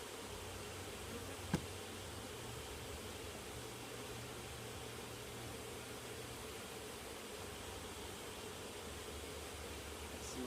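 Honey bees hum steadily around an open brood frame during a hive inspection, a dense, even drone of many insects close by with one brief sharp tick near the start.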